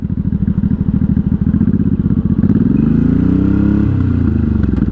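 A 1983 Honda Shadow VT750C V-twin motorcycle rides with a loud, close engine rumble. The pulsing throb rises in pitch as it accelerates, then steadies.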